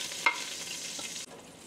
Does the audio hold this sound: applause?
no